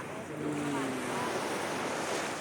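Sea waves wash onto a seashore in a steady, full rushing roar, close and loud, with wind buffeting the microphone.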